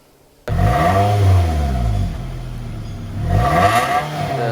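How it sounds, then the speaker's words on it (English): A Toyota Camry engine starts abruptly, is revved up and allowed to fall back, then revved again, a close mid-pitched engine with a rising and falling pitch and no talking. "Let's take a listen to the engine."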